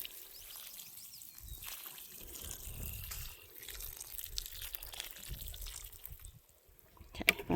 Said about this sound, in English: And then water on top of that